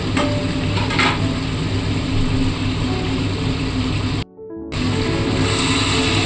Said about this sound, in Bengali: এর মধ্যে আমি ক্যাপসিকাম কাটা এবং টমেটোগুলো দিয়ে দিচ্ছি দেওয়ার পরে এগুলোকে একটু ভালো করে মেখে নিতে হবে